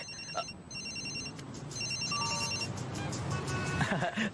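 A cellphone ringing in an animated Spider-Man scene, a repeating electronic ringtone pattern of short bursts over a busy background with traffic-like rumble.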